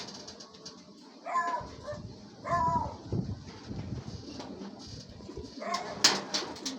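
Racing pigeons arriving during a pigeon derby give soft, low cooing calls in a few separate bursts, close but quiet against faint background noise.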